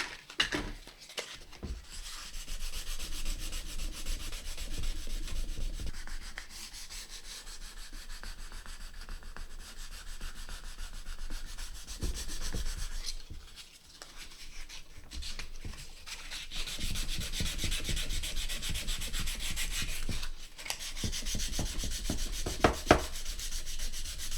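Sandpaper works over the lacquer on a guitar neck in long, rasping back-and-forth strokes, close and fairly loud, with brief pauses between passes.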